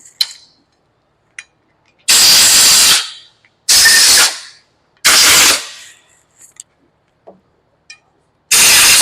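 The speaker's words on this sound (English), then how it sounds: "Might want to take your air nozzle and blow the holes out a little bit." An air nozzle blows compressed air through bolt holes while corn choppers are prepped for harvest. Four loud, sharp hissing blasts, each lasting about a second, are separated by near-silence with a few small clanks.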